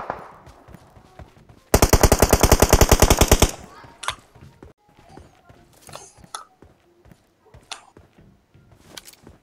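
PUBG Mobile gunfire, a loud rapid automatic burst lasting about two seconds, followed by scattered single shots and clicks, with a little talk.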